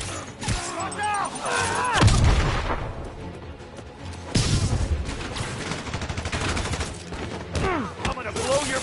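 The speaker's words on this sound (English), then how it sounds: "Grenade! Watch out!" A grenade blast and gunfire in a Spider-Man video game, with booming explosions at intervals over rapid shooting and game voices talking in the mix.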